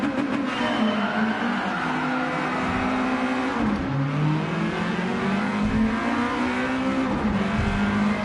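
A race car engine in Gran Turismo holds roughly partial throttle, droning loudly with steady pitch that dips and climbs through gear changes and corners, with faint tire scrub and no talk.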